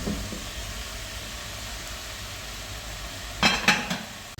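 Mushrooms go into a hot cooking pot: a steady, soft sizzle hisses throughout, broken near the end by a few brief clattering knocks of utensil against pot.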